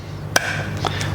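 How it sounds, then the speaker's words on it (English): An egg is cracked once with a sharp tap on a hard edge, followed by a faint second click, close and clear. "I'll crack the egg"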